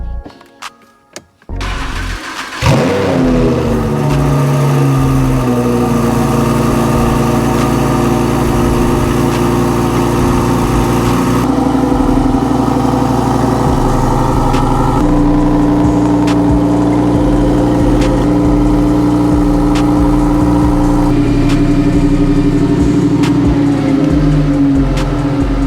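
A Lamborghini Huracan Evo supercar with a valved aftermarket exhaust starts up and settles into a loud, steady idle, its pitch stepping up and down as the exhaust modes change, close and alone.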